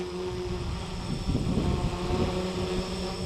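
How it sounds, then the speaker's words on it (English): An X450 RetraX multirotor drone flies overhead with a continuous buzzing motor drone, swelling slightly midway as its retractable landing gear lowers, heard alone with no talk. "We're gonna hit that RetraX switch, let the landing gear come down."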